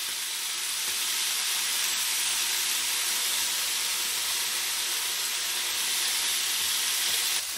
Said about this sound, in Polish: Na rozgrzaną patelnię nakładam plastry boczku, oczywiście bez żadnego dodatkowego tłuszczu.